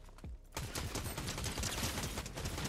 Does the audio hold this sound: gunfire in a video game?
yes